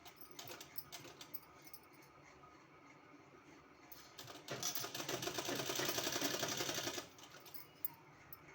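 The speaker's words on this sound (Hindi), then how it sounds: "उसके लिए हमने ये उरेब पट्टी लिया है और इसको हमको इस तरह से सिलाई लगाना है।" Sewing machine stitching bias-strip piping onto a kurti neckline: faint handling clicks at first, then a rapid, even whirring run of stitches for about two and a half seconds that stops abruptly, in a quiet room.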